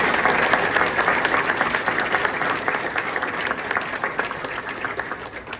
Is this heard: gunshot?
no